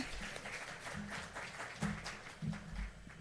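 An audience at a public service excellence awards ceremony applauds after an invitation to prayer, a steady roomful of clapping with a few sharper, louder peaks and faint voices underneath.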